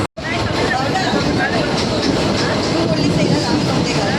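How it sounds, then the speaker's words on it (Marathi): Commuter train heading to Dadar, a dense continuous roar of wheels and carriage noise heard from inside, steady and loud throughout. "आता आम्ही जस्ट ट्रेन पकडली आहे"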